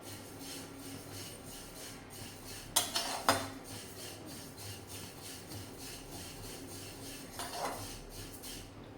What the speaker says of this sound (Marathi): एकदम मंद आचेवर तीळ आपल्याला भाजून घ्यायचे आहे